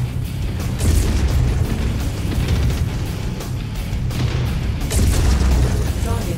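Twin rapid-fire heavy Gauss rifles on a Stone Rhino SR-1 mech in MechWarrior 5, a dense run of heavy booming shots and mechanical bursts that fills the clip at steady loudness, with radio-style voice chatter mixed underneath.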